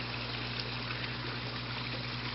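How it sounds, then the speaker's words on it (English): Air stones fed by a TetraPond APK100 air pump bubble steadily in outdoor pond water, a continuous soft fizzing and trickling wash with a low hum beneath, close and even throughout. "A lot of bubbles."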